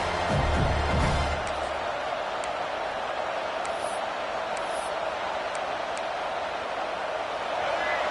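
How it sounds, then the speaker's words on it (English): A big American football stadium crowd at a Penn State game roars in a continuous wash of noise, loud and steady, urging a red-zone defensive stop, with a commentator talking over it. "This crowd is trying to inspire this defense to make a big red zone stop."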